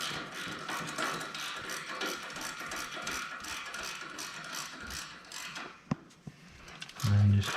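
A wrench ratchets steadily while tightening a stainless turbo clamp on a Dodge Cummins diesel, with rapid close clicking followed by a couple of sharp metallic taps and a brief low thud.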